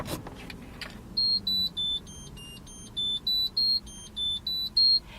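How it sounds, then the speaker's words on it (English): Cybex Sensorsafe child reminder chime from a car seat, sounding in a steady series of about a dozen short, bright electronic beeps in even rhythm, fairly loud and clear over a quiet vehicle background. "That is the chime that's going to go off immediately, just to give you a little indication that there is a child in the seat"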